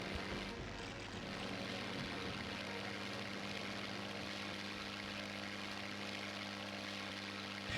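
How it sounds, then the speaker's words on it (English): A World War II propeller plane engine drones in a video game, a steady continuous hum held at an even level throughout, fairly faint and with no voices over it. "this sounds like a World War II plane"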